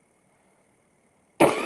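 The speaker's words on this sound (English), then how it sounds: "See, it gets me coughing." A single loud cough bursts out abruptly after more than a second of near silence, close to the listener.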